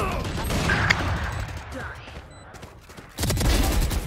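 Gunfire and weapon mechanisms in the video game Valorant, with clicking handling noises, a faint pause, then a loud burst of rapid shots near the end; a voice speaks briefly.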